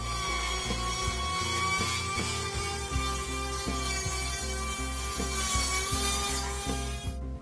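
A Rotozip rotary tool cuts a circle in a ceiling panel, giving a loud, steady, high-pitched motor whine that runs unbroken for about seven seconds and then cuts off, with no talking.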